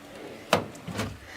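A drawer in a beauty room holding lashes, glue and scissors slides open, a sharp wooden knock followed by a softer scraping rattle, close and fairly quiet.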